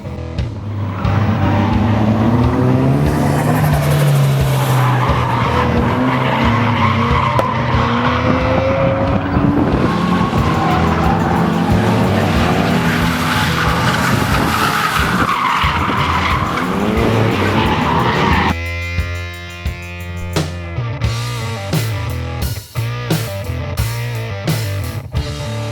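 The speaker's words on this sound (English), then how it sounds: "You bring your own car and you do your donuts, your figures of 8" A car drifts through donuts and figures of eight, its tires squealing loudly and continuously over a strained, revving engine. The screech ends abruptly into a few sharp bursts.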